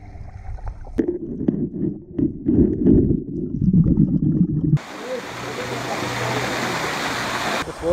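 Voices and murmuring give way to a loud, steady rush of falling water from a hot spring waterfall in El Salvador that continues to the end.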